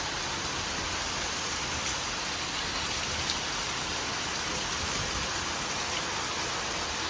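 Heavy monsoon rain pours steadily in a Punjabi village, a dense, unbroken hiss of downpour on surfaces with no pauses and no voices.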